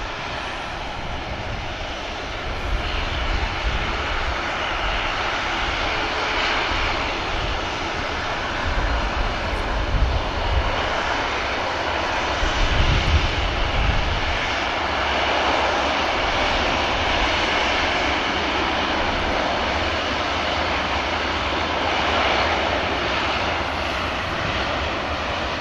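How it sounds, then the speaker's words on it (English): An Aer Lingus Regional propeller airliner operated by Emerald Airlines drones steadily at Manchester Airport, a broad continuous engine rumble with mild swells in loudness and no voices. "Aer Lingus Regional Emerald Airlines operated flight"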